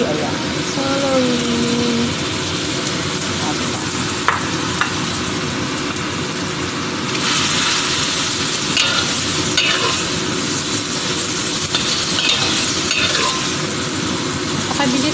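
Squid and celery stir-frying in a pan, a steady close sizzle with scraping and tossing of the utensil throughout, getting brighter and louder partway through as the celery goes in, with faint talk underneath.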